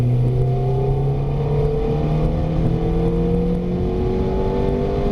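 A Ferrari F430 on track accelerates hard in fourth gear, its engine note rising in a steady climbing whine, loud and close from inside the car.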